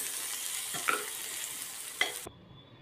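Radish sizzling steadily in a hot pan, with a couple of sharp spoon scrapes as it is stirred, before the sizzle suddenly cuts off.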